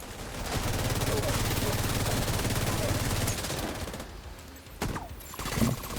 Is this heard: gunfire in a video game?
yes